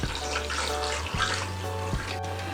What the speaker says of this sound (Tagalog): Lalagyan po natin ng tubig para sa ating pagpapalambot.